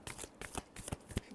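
Tarot cards shuffled in quick, soft riffles, several rapid papery flicks close to the ear, quiet and without speech.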